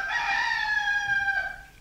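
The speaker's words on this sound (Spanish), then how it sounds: "Y al instante cantó un gallo." A rooster crows loud and close, one long strained call that holds steady before tapering off at the end.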